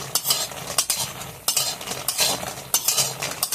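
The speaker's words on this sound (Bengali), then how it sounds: "এখন তেল দিয়ে বড়িটা ভালোভাবে ভেজে নেব।" Lentil dumplings (bori) fry in oil in a pan while a utensil stirs them in repeated scraping strokes, with soft sizzling underneath, close and alone.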